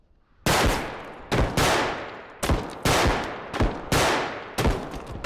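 Loud, close gunfire from a weapon in a bodycam-style shooter game, with six sharp shots spaced in uneven bursts, each leaving a ringing tail before the next.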